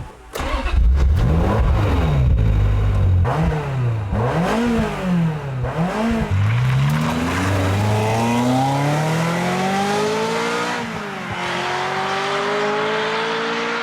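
A Ferrari 355 Spider engine revs repeatedly and loudly nearby, with sharp rises and falls in pitch, then a longer sustained climb as the V8 pulls up through the rev range.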